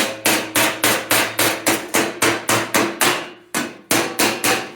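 A steel patch panel for a 1965 Thunderbird front floor pan is hammered over the horn of an anvil: a steady series of about fourteen sharp, ringing metallic blows, close and loud, evenly spaced with one brief pause.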